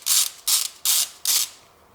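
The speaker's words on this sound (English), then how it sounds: "we really need to take out this one 10 millimeter bolt in here" A ratchet with a 10 millimeter socket turns a bolt on a Toyota Prius, four quick clicking ratchet strokes in even rhythm, close and crisp, then silence.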